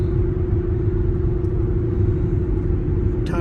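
Steady loud low rumble and drone of Cooper Endurance Plus tires rolling on the road inside a moving car, continuous and unbroken with a droning tone throughout.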